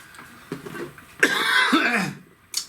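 A single harsh cough, fairly close, with a short throat-clearing noise before it and quiet room sound around it.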